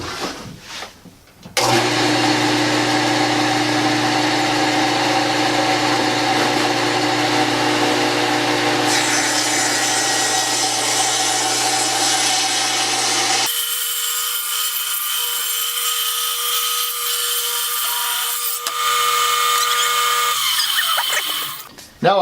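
A table saw with a sled jig squaring rough-cut lumber: the motor starts with a thump, settles into a loud steady whine, then changes tone as the blade works through the board before spinning down at the end.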